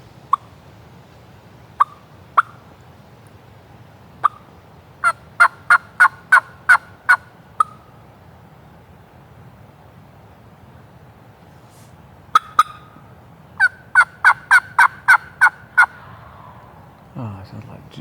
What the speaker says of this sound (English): the gobble could have possibly been a jake gobble